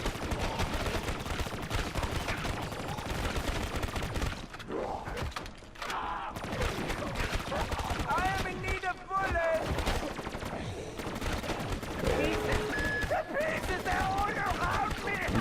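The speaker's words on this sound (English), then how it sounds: "This is a submachine gun, it's not a rifle." Submachine gun fire in a first-person shooter video game, repeated rapid bursts with mechanical clatter, loud and close throughout, with game effects and a voice in the mix.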